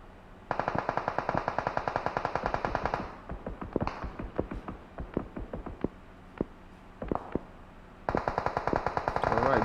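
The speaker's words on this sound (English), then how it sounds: "It does seem like Kateria is not too far away, basically taking on some shots onto them" Rapid bursts of automatic gunfire crackle in a video game esports match, dense rattling volleys at the start and end with scattered single shots between.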